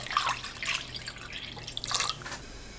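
Water poured into a pot to start kalguksu broth, heard as uneven splashing and dripping bursts at close range, with no talking.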